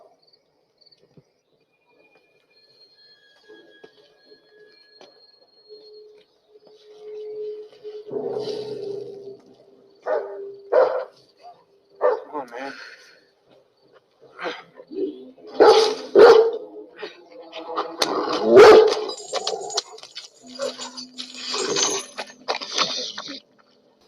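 A dog barks in short bursts, some loud and close, within a tense night scene from the horror thriller Don't Breathe, with a brief spoken line and soft ambient noise around it.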